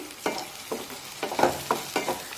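Chopped tomato tipped into a frying pan of onion and masala and stirred, giving a run of soft scraping stirs with a light sizzle, about five strokes in a steady rhythm, close and moderately loud with no talk.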